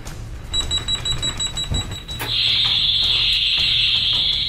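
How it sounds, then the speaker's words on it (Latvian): Fire-alarm-style school alarm bell: a steady high ringing tone starts after a short beep pattern, then switches to a loud continuous bell ring that persists to the end, with faint background room noise. "Tā, uzmanību, tas ir trauksmes zvans."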